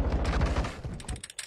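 A weapon reload in Call of Duty: Modern Warfare II, with mechanical clicks and a magazine swap ending in a few sharp metallic snaps, close and brief.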